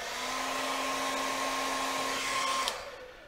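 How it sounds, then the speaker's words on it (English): A hair dryer blows steadily with a high motor whine for nearly three seconds, then cuts off abruptly. "I zap it with a hairdryer"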